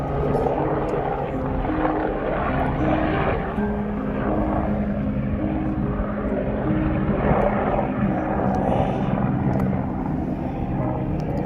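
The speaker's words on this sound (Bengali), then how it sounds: "হেলিকপ্টারের আসা যাওয়া" A helicopter flies over a windy high Himalayan trail on the Everest Base Camp trek near Dingboche and Dughla, Nepal, its steady rotor drone continuous and fairly loud, mixed with strong wind.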